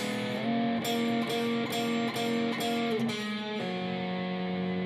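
Slow electric guitar turnaround, several picked notes and double stops in a steady, deliberate rhythm with a final sustained chord, close and clear with no talking.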